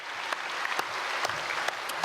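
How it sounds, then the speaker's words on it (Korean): A church congregation at a Sunday service applauds the choir, steady clapping with a few sharper individual claps standing out. "크게 사랑과 격려의 박수 보내겠습니다"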